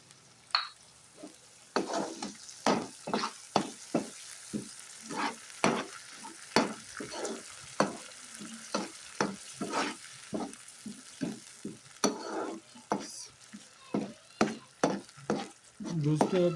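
Yogurt being stirred into a sizzling tomato and onion gravy for mutton kofta curry, a steady frying hiss under repeated scraping spoon strokes against the pan, close and fairly loud, with no talk.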